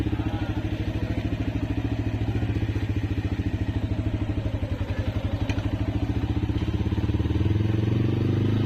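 Yamaha R15M motorcycle fitted with an Akrapovic exhaust, ridden with a steady, loud, close engine drone and rapid exhaust pulsing that swells slightly near the end, no voices.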